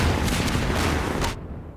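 Gunfire aimed at the player in Half-Life 2, heard as a loud, dense fusillade of rapid shots that cuts off abruptly near the end.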